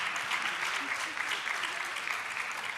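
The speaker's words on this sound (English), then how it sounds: "give her a big round of applause" An audience at an International Women's Day dialogue event gives a round of applause, dense steady clapping from a full room with no break.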